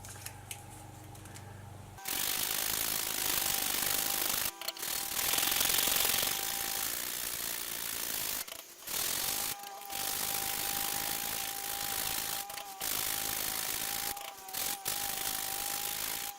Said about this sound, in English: The epoxy is dry here, just needs to be sanded off.